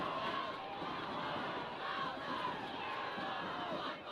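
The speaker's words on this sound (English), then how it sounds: "Listen to this crowd." A stadium crowd at a high school football state championship game roars steadily and loudly throughout, a sustained mass of cheering and shouting with no pause.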